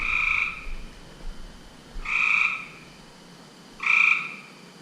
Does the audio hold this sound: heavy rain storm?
no